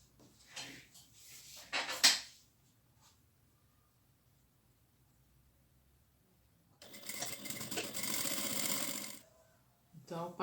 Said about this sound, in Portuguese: E vou costurar nas 3 faces aqui.